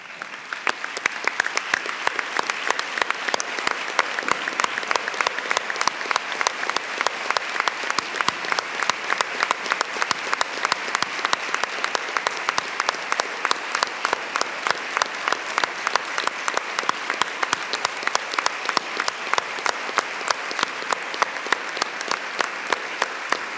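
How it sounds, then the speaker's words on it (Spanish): Standing audience at a university medicine graduation ceremony breaks into sustained applause, a dense, loud wash of clapping with a rhythmic beat emerging as the crowd claps in unison for over twenty seconds. "le dedicáramos desde aquí el aplauso que merece"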